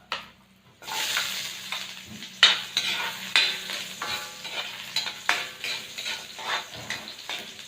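Ginger stir-fried in a pan, with a continuous sizzle under repeated scraping and clinking strokes of a utensil against the metal, close and fairly loud.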